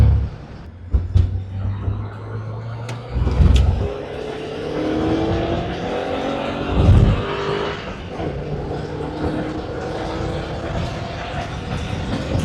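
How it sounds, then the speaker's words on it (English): A 1983 Porsche 944 revs while being driven, its engine tone climbing through the gears as a car interior drone, fairly loud and steady, with brief low thumps and rising harmonic sweeps over about twelve seconds. "Man, it's fun to ring out though, and it likes to drive at high revs."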